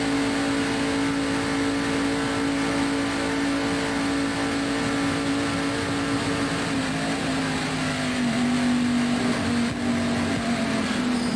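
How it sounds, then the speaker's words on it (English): In-car onboard sound from a stock car racing at the 1991 Winston 500, a loud steady engine drone at high revs holding a constant pitch, dipping slightly near the end, with wind and road noise. "Now a real-time replay of the in-car from Hut Strickland"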